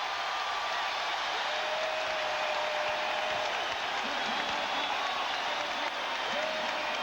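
Basketball arena crowd roaring on its feet at a 1997 NBA game, a steady dense wall of cheering and applause that holds at an even level throughout without pause.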